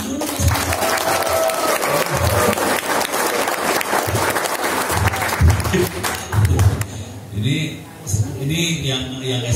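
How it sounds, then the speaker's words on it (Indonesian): Audience applause at a school seminar in South Sulawesi, a loud crowd clapping with a speaker's voice and amplified talk mixed in and continuing as the clapping thins toward the end. "Tepuk tangan dulu."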